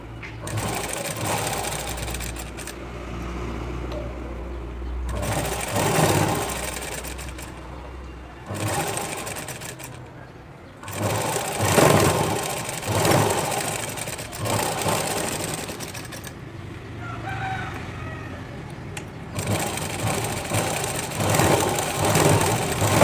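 A sewing machine stitches a shape belt in steady bursts of fast, even whirring, pausing between runs, with a low hum and faint handling noise between runs.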